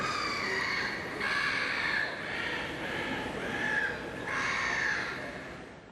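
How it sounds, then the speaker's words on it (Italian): A seagull calls in the deserted Piazza San Marco in Venice, four or five harsh, drawn-out cries spaced a second or so apart over a steady background hum from a nearby building site. "Il silenzio è rotto solo dal verso di un gabbiano, dai rumori di un cantiere."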